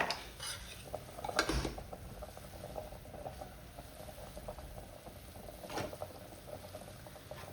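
Water boils in a pot as a quiet, steady bubbling. A couple of sharp metallic clinks from kitchen utensils sound near the start and again later.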